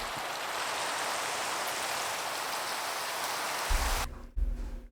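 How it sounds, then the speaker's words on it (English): Heavy rain pours down in the Minecraft video game as a dense, steady hiss that holds for about four seconds before cutting out, followed by brief low rumbling thuds. "That's the loudest I've ever heard water come down."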